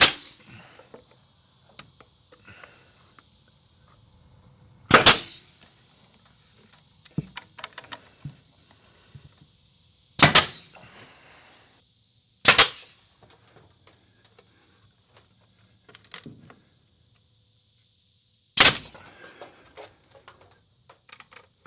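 Nails driven into cedar tongue-and-groove ceiling boards: four sharp, loud, close cracks spaced several seconds apart, with faint handling clatter and taps between them in an otherwise quiet room.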